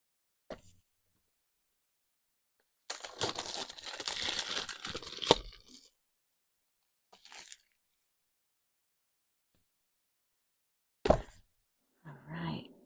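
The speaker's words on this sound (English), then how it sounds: "Nice tight box. A little bit difficult to open." A tight cardboard box holding a Hay House oracle card deck is opened, with a long stretch of crinkling, scraping packaging noise followed by a few brief, sharp rustles and taps, near and fairly quiet with no talk.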